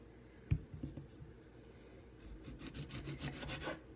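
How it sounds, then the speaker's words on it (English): A knife slicing through a lemon on a cutting board, a few soft rubbing, scraping strokes building over several seconds after an initial knock, close and quiet with no talk. "And I'm going to slice this lemon."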